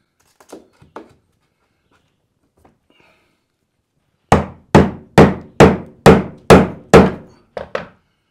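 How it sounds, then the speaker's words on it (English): Steel hammer strikes a chisel during tiny house bathroom work, landing about nine sharp, evenly spaced thunks in a steady rhythm after a quiet pause with a few faint knocks, close and loud with no talking. "Okay, so I've had to go to a chisel."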